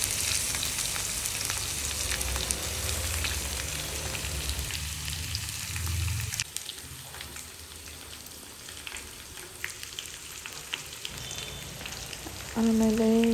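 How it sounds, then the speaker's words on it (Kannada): Ridge gourd and eggplant palya, Uttara Karnataka style, fries in oil with a steady crackling sizzle that softens partway through, ending with a brief metallic clink. "ಇದು ಎಣ್ಣೆಯಲ್ಲೇ ಫ್ರೈ ಆಗೋ ಥರ ಅದರೆಲ್ಲ ಎಣ್ಣೆ ಬಿಟ್ಕೊಳ್ಳೋ ಥರ ಬಿಡಬೇಕು."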